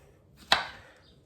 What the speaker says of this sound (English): I'm going to chop them all into halves.